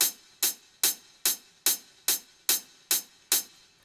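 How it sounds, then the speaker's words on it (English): A crisp hardgroove techno hi-hat ticks steadily on the offbeats, nine even bright hits with short decays, alone and fairly loud. "So it's our main offbeat hi-hat."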